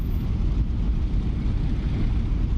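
Inside a P-47 Thunderbolt in the DCS flight simulator, a piston engine idles as a steady, dense, low rumble that never changes through the short stretch, with no voices over it.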